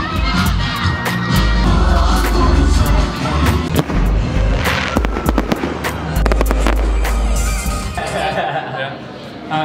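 Fireworks at the Rugby fireworks event explode in a loud rapid volley of bangs and crackles with deep booming thumps, while a crowd cheers and shouts throughout.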